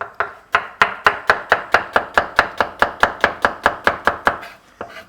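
A knife chops onion on a cutting board in quick, steady strokes, about twenty crisp, evenly spaced cuts close up, with no talking.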